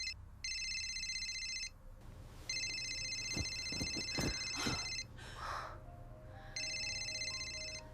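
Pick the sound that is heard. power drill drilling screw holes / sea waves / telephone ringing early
telephone ringing early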